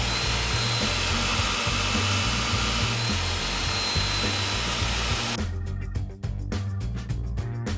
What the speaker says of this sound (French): pour enlever la crasse, on va passer un petit coup de brosse à la perceuse.